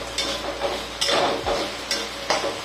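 Okra stir-fry with salt being stirred in a pan: a spoon scrapes and turns the vegetables in a few distinct strokes with light sizzling underneath, close and fairly loud, no voices.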